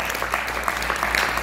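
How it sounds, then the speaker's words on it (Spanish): A brief stretch of steady audience applause for a professor after a Spanish-language talk, with continuous clapping from a seated crowd close by. "Vamos a darle otro aplauso a nuestro amigo"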